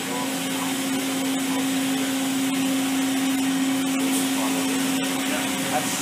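Spindle of a Makino A77 CNC horizontal machining center running at speed, a loud steady whine and hum that holds constant throughout with faint clicks on top.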